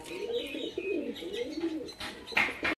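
A pair of Madras pigeons, a female and a male, cooing softly and repeatedly at close range, with a few brief chirps near the end and no talking.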